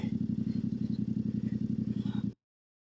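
A KTM off-road motorcycle on a coached trail ride gives a rapid, pulsing engine chug with steady rhythmic beats, close and fairly loud, cutting off abruptly after about two seconds.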